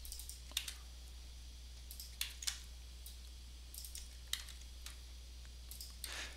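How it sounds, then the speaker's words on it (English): Soft, sparse keystrokes on a computer keyboard as login credentials are entered, scattered clicks in small clusters over a constant low electrical hum, quiet and close. "Now type in your credentials."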